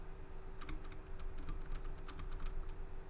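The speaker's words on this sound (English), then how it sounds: "my keyboard is ridiculously loud" Rapid clicking keystrokes on a loud computer keyboard, a quick irregular run of sharp taps at low volume over a steady background hiss.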